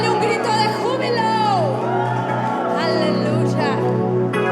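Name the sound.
church congregation shouting for joy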